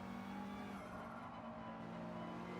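Race car engine in the Gran Turismo racing game, a steady loud droning whine with sustained harmonic tones that shift in pitch as the car powers through a corner, with no talking over it.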